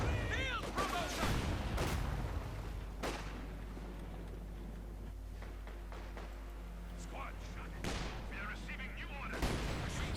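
Rocket blasts and gunfire from a Company of Heroes 2 match, a few sharp bursts and booms scattered over a low rumble, with an excited commentator talking over much of it.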